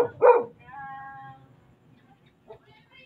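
A dog barks once loudly up close, followed by a short whine and then a faint second yip after a quiet pause.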